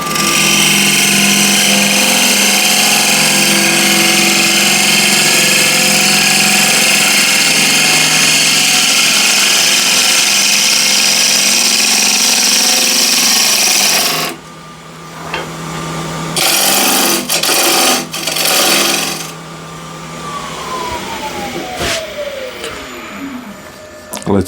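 A wood lathe spins a cracked bowl blank at about 1300 RPM, a loud steady whirring hum with cutting for roughly fourteen seconds, then the motor cuts out and winds down amid quieter knocks and handling.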